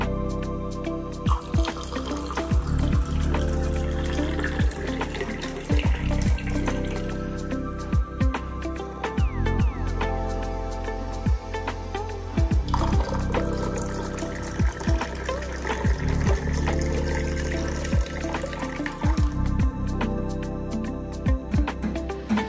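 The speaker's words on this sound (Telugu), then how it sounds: "ఇప్పుడు ఈ వాటర్ వేసుకుందాం." Water poured into butterfly pea flower juice with squeezed lemon, a steady liquid trickle and dripping running throughout with occasional clinks, close and fairly loud, no talk.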